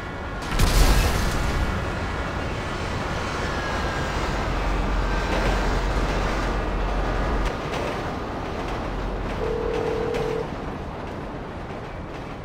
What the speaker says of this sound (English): Train accident